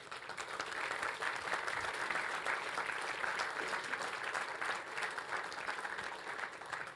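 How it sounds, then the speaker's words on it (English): Audience applause at a hacker congress, thanking the volunteer angels, a steady, moderately distant wash of many hands clapping that swells and holds without talk. "Please give them an applause."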